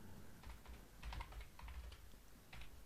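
Fingers tap a computer keyboard in short, quiet bursts of clicks, a few keystrokes at a time with brief pauses, close but soft over a low background hum.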